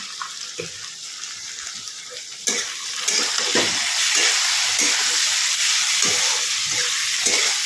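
Spices with salt and turmeric fry in a pan, a soft hiss that jumps to a loud, steady broadband sizzle after a couple of seconds and holds without talk.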